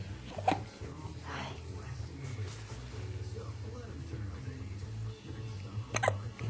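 Repeated hiccups from a pet, a few sharp bursts near the start and end over a steady low background hum.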